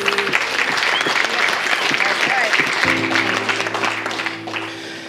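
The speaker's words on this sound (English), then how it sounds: "Now, a round of applause for Steph for making him a better man." Wedding guests at a reception give a loud, close round of applause that continues throughout, with a low steady hum entering partway through as the clapping slowly thins.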